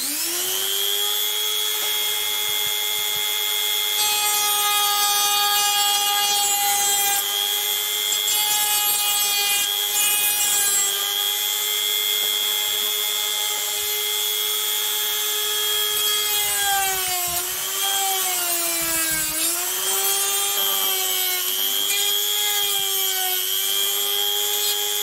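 A high-pitched Dremel rotary tool whines steadily with a sanding drum, its pitch dipping and wavering as it presses against an F3K glider fuselage, continuous and close.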